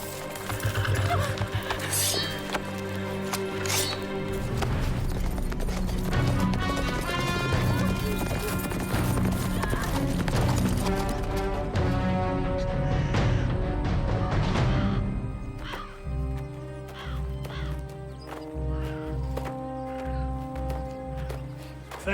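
Horse hooves clip-clop steadily under dense orchestral music in a fantasy adventure setting, the hoofbeats thinning out in the final seconds.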